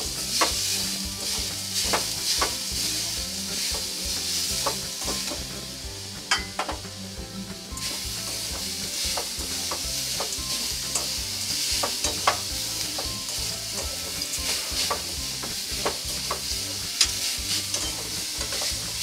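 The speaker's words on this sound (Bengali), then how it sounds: "চিনি আর নারকেলটা ভালো করে এরকম মিশিয়ে নিতে হবে" Sugar and grated coconut being mixed together by hand in a bowl for a patishapta pitha filling, giving a steady, close, continuous scraping and stirring rustle with no one talking.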